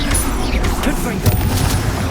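Confringo blasting spell detonating in the Hogwarts Legacy video game, a loud burst set among continuous dense combat noise with rumbling booms and crackling impacts throughout.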